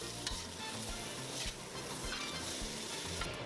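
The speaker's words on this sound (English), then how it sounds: "Also put in the Shanghai bok choy and stir fry." Shanghai bok choy stir-fried for a spicy ma la xiang guo, a loud steady sizzle with stirring scrapes and clatter running throughout, with no voices.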